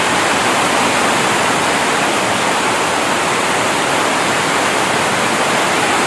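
Loud, steady rushing water roaring continuously with no pauses, a dense broadband wash close by.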